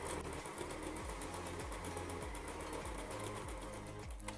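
Sewing machine stitching a fabric seam for shorts, a steady fast mechanical whir with regular rhythmic thumps, running continuously and alone at close range.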